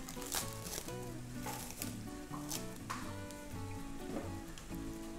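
A pot of water at a rolling boil for blanching pork hock over a wood-fire kitchen, giving a steady bubbling patter that runs under tonal background music for the whole stretch.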